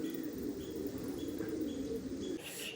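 Pigeons coo softly and steadily in a quiet setting, with a few faint chirps. The low, rounded calls stay gentle and fairly distant, and no voices are heard.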